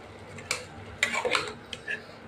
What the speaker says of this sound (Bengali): এই যে এখন নেড়ে দিয়ে দিচ্ছি